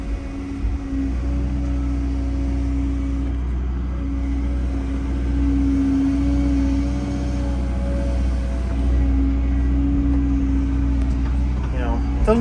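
A 2024 Cat 317GC excavator runs with a steady low diesel drone and hum throughout, close and fairly loud, while someone talks over it.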